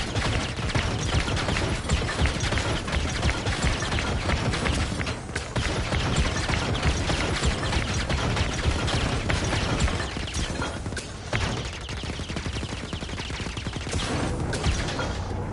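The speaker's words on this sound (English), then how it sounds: "That fires the cannons." Dense, continuous battle noise in Star Wars Jedi: Fallen Order with rapid booming cannon shots and clattering mechanisms, loud and unbroken throughout.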